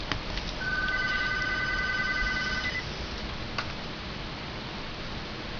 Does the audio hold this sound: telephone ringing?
yes